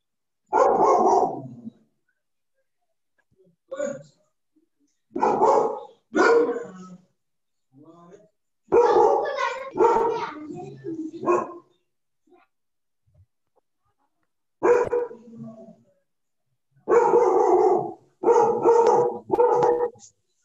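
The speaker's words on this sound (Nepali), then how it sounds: "कुकुर हो कि कुकुर गराएको कुकुर गराएको" Dog barking in a classroom: repeated short, close barks arrive in uneven clusters with pauses between them over about twenty seconds, with some voices in between.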